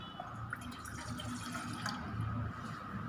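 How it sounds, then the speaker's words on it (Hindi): Water trickles and splashes into a cooking pot, a soft steady pouring with small drips and gurgles, fairly quiet and close, with no speech. "आपने सबसे पहले पानी को पतीली के अंदर डालकर रख लेना है।"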